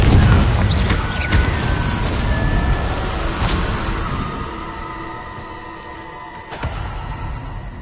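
A Confringo blasting spell explodes in Hogwarts Legacy, a loud, broad roaring burst that starts strong and slowly fades, with a few sharp cracks and crackles scattered through the decay.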